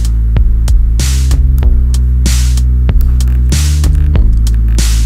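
A sustained synth pad holds low droning tones that throb steadily, with soft washes of airy noise swelling in and out and occasional sharp clicks, loud and alone.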